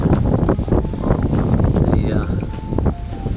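Strong easterly wind at sea buffeting a sailboat offshore, a constant loud rushing roar against the microphone with gusty fluctuations, and a voice speaking over it.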